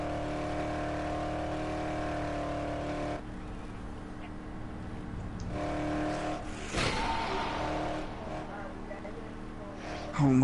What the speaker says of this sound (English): This guy has a car. He found a car.